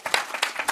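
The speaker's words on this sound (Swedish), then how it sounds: "Du kan få applåder." Brief applause for a guest at a morning talk event, a handful of separate, fairly quiet claps in quick succession.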